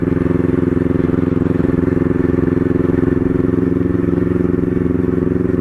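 A Kawasaki NK400 motorcycle engine idles steadily and loudly nearby to warm up, a continuous low, rhythmic putter with no revving.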